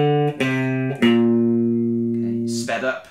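Electric guitar playing the easier version of the riff from a song, a few sustained picked notes ringing close and clear, the last one sliding into a new pitch.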